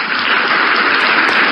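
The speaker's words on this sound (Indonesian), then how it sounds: "Tepuk tangan." Sustained audience applause at a church sermon, a dense, even wash of clapping that holds steady at high level throughout with no speech over it.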